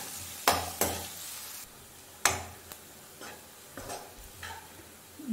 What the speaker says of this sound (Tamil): வெங்காயம் நல்லா கலர் மாற வரைக்கும் வதக்கிக்கோங்க.